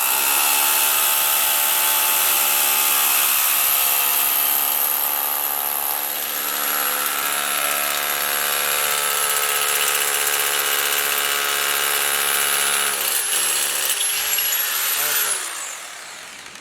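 A power drill bores an anchor hole into a thin slab of lightweight concrete on a second floor, a loud sustained high whine that holds steady and winds down near the end, with a voice talking under it.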